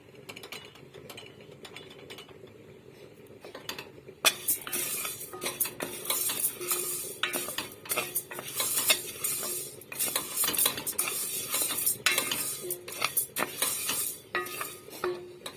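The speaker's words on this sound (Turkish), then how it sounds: "Önce arpa şehrimi biraz kavuracağım." Orzo toasting in a pot, stirred with a utensil that scrapes and clinks against the metal in steady busy bursts, louder and denser after the first few seconds, close by with no talk.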